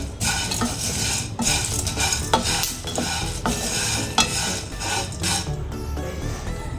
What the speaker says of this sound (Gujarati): કરાઈ ગરમ છે એમાં થોડોક આ રીતના હલાવતા રહેવાનું જેથી કરીને આપણો મસાલો બરે નહીં